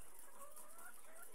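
Poultry cluck softly at a farm where chickens drink from a piped water system, faint and close with a low background hum and no talk.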